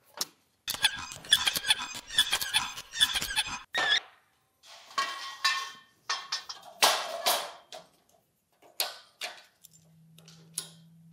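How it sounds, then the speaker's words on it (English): Comical cartoon sound effects laid over tool work while building a tornado chandelier: a rapid run of bright squeaks and ticks, then scattered boings and zips, ending in a low steady hum, with no talk. "I wish all my tools had cartoon sound effects."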